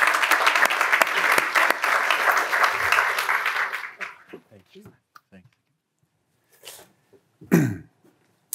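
Audience applause welcoming a speaker to the stage at a research launch event: dense, steady clapping for about four seconds that fades out, followed by scattered coughs, shuffles and throat clearing in a quiet room.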